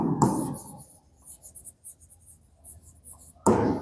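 Chalk or marker scratches across a board in short bursty strokes during a physics lesson on moments, close and fairly faint, with no talk.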